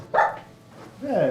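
A pet dog named Moxie, at home, gives a short bark right after a brief spoken greeting, then a second, longer whine-like bark follows; close and moderately loud.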